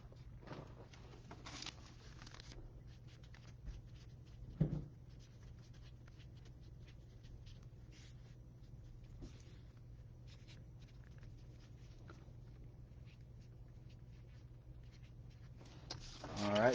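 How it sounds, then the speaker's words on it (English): A hand-written note made with a pen on paper at a sports card break table: faint, scattered scratches of the pen in a quiet room with a low steady hum underneath and an occasional louder tap. "Let me just write down Jordan's note"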